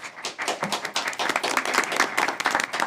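Audience applause at a Scott County Schools Board of Education meeting: many hands clapping in a steady, dense patter for three seconds, moderately loud and without speech.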